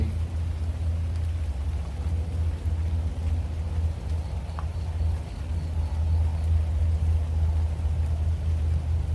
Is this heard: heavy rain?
yes